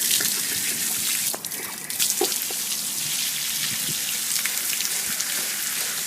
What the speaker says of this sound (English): We're going to open up the PT valve so it drains a little faster.